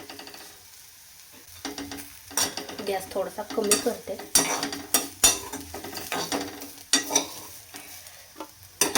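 Hot oil sizzles and spits in a kadhai with sharp crackling pops as spices are tempered for bitter gourd curry, plus a spoon scraping and stirring; someone speaks briefly.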